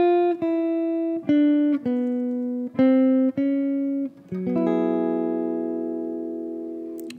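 A slow jazz lick played on guitar, a few plucked notes and chords sounding one after another with clean attacks, ending on a long ringing chord, close and alone.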